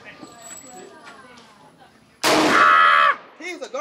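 A single gunshot cracks out loud and close at a shooting session, leaving a sharp broadband burst with a ringing tail, followed by people talking nearby.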